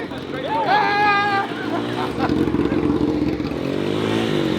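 A 2023 Yamaha YZ250 dirt bike being ridden, its engine droning and revving loudly up close. Voices talk and call out over the engine noise.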